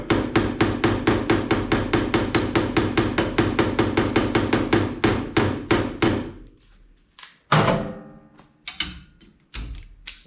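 Hammer tapping on the eyebrow of a 1959 Dodge Coronet body panel: a fast, steady run of ringing metallic blows for about six seconds, then a few scattered heavier taps, close and loud.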